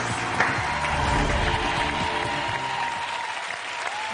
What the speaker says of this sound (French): Allez, on applaudit encore une fois.